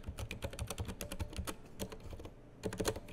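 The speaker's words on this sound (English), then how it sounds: "We're just simply going to type" Quick, close clatter of typing on a computer keyboard, a steady run of sharp key taps with a brief pause near the end before the tapping resumes, no voices.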